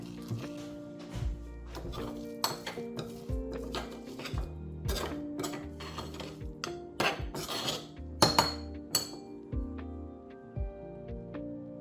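Organic rapeseed-style olive oil mixed into a crushed paste in a bowl: a spoon clinks and scrapes against the dish in a quick irregular rhythm, close and fairly loud, with faint kitchen sounds around.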